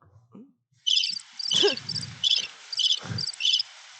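Crickets chirp in a crisp, rhythmic series of rapid pulsed bursts, loud and close, played as a sound effect in a studio while people talk and laugh softly underneath.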